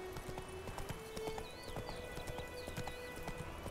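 A horse trotting in The Witcher 3, with quick rhythmic clip-clop hoofbeats on the ground continuing throughout, plus a short whinny and faint game ambience, no voices.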